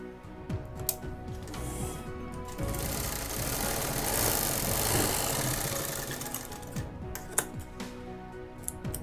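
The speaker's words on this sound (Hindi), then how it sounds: "फोल्ड करके सिलाई कर लेंगे" A sewing machine stitching along a folded fabric strip for a homemade face mask, a steady rapid mechanical whirr with ticking that rises and falls over several seconds, close and continuous, with no speech.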